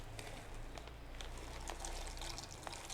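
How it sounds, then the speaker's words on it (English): Water pours and splashes steadily into a pot for macaroni, a continuous noisy spatter over a low background hum. "Splashing, it's splashing, it's splashing, it's splashing."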